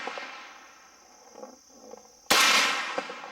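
An Inland Mfg M1A1 paratrooper carbine fires at a steel target outdoors, with one sharp loud crack partway through followed by a ringing decay and fainter clanks.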